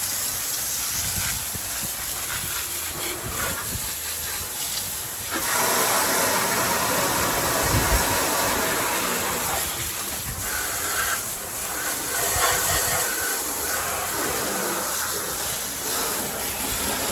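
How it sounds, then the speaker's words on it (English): A greasy, grimy engine is sprayed and hosed off with water during a restoration, giving a steady close hiss of spray that surges louder in bursts and eases between passes. "we sprayed it down, waited a few minutes, hosed it off"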